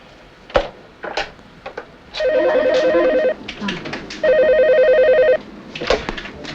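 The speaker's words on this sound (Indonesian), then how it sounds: "Jel, ada telepon." A telephone rings in two long electronic bursts, loud and close indoors, with brief bits of speech and room noise before, between and after the rings.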